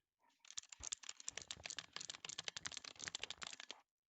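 Clicky tactile mechanical computer keyboard being typed on, a rapid, steady run of close, crisp key clicks lasting several seconds with no talking.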